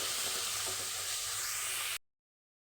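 Ivy gourd sautés in a pan with a soft, steady sizzle and hiss, fairly faint and close, lasting about two seconds before cutting to silence.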